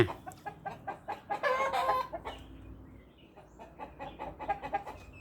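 Several chickens cluck in short, repeated bursts close by, with a louder flurry of clucking in the middle and quieter scattered clucks toward the end.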